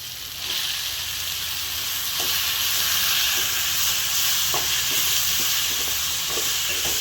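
Onions and tomatoes fry with chicken liver in a pan, giving a continuous close hiss and sizzle with faint scraping ticks of stirring scattered through it.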